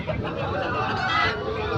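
A Kaki Nemali fighting rooster, nine to ten months old and about 3 kg, clucks amid the busy clamour of the Rayachoti livestock market in Kadapa district, its calls blending into a constant crowd din.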